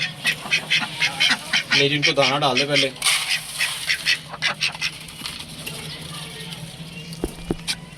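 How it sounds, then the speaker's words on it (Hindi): Ducks quack in a busy cluster while being fed grain, near and lively, with someone talking over them and a brief harmonic call standing out before the quacks thin into scattered calls and a couple of sharp taps. "अब हम अपनी डक को दाना डालते हैं।"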